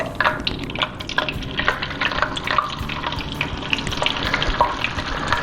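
Batter-coated cauliflower pieces for gobi 65 deep frying in hot oil, a dense steady sizzle and crackle with bright pops throughout, close and fairly loud with no talking.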